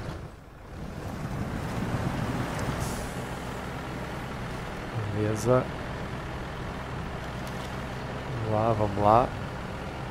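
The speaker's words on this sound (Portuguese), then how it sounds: "Acelera, caminhão." A truck engine in the SnowRunner game revs through Michigan mud with a steady low rumble and wind-like rush, swelling at times, while someone speaks briefly over it.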